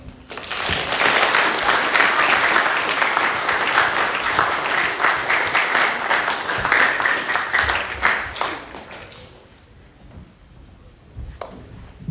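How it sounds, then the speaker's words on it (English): A school chapel congregation gives Year 9 students a long round of applause, dense, sustained clapping from a large crowd that fades out toward the end. "We'll give them a hand of applause."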